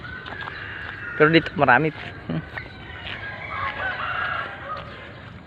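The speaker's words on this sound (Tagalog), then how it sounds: "Yan yung papasok dun sa ano, sa mga alagang manok." Pet chickens in a backyard flock, a rooster crowing loudly nearby in a couple of bursts amid scattered clucks and fowl noises, with someone talking over them.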